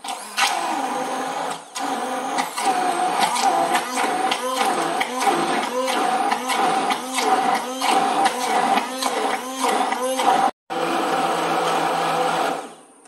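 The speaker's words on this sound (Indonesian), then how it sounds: "Ini kita kasih minyak sedikit biar gampang itu blendernya ya." Blender grinding Indonesian spice paste for jackfruit curry with about two spoons of oil added, a loud steady whirring motor with a pulsing, churning rhythm, running almost continuously with one brief stop near the end.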